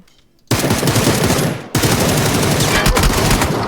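Heavy automatic gunfire from the battle-royale video game PUBG, a dense continuous burst that cuts off briefly and resumes, loud and close throughout.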